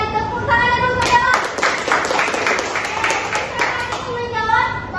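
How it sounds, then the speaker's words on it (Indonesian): Applause from a class of students clapping hands together in a classroom during a micro-teaching lesson, a dense burst of many hands lasting a few seconds, with children's voices around it. "Tepuk tangannya dulu Yola."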